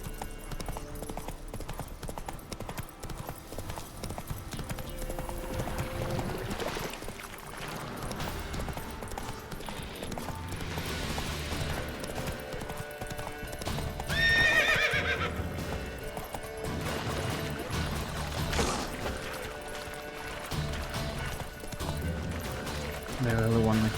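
Geralt's horse Roach gallops in The Witcher 3: Wild Hunt, with steady, rhythmic hoof clip-clops and occasional whinnies layered over continuous game music and ambience.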